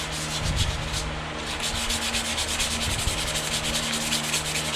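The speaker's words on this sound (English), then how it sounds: "Just sand and sand and sand." 220-grit sandpaper rubbed steadily across a motorcycle gas tank, a continuous close scratchy hiss with rhythmic back-and-forth strokes, alone with no talking.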